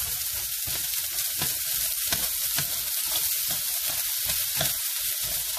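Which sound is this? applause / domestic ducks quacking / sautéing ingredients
sautéing ingredients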